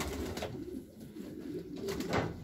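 Pigeons at a large Romanian racing-pigeon breeding loft coo steadily, with soft throaty calls rising and falling close by and no talking.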